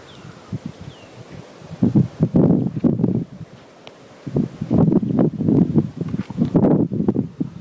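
Gusty wind buffeting the microphone in rumbling bursts, rising and falling irregularly outdoors, with quieter lulls between gusts.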